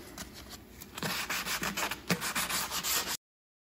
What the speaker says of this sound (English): we just finished the wet sanding